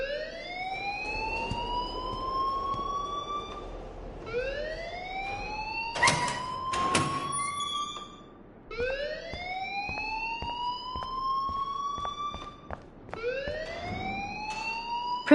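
Repeating rising siren-like alarm wails inside a school in the Life is Strange video game, looping in steady sweeps with a brief burst of clatter midway, loud and continuous with no talk over it.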